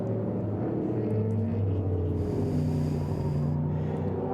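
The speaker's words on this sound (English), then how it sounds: "The beautiful big V8 making all sorts of lovely noises" Big V8 engine of a Porsche 928 sportscar in a Group S race at Winton, its exhaust rumbling steadily throughout, a loud, continuous low drone with shifting pitch and no talk.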